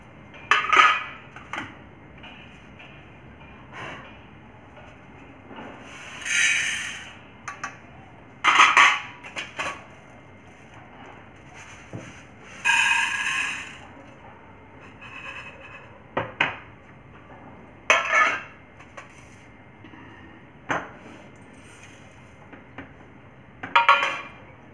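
Dry lentils roasting in a pan for sambar, stirred with intermittent scraping and clinking of a spoon against the metal, irregular bursts between quiet pauses, close and without talk.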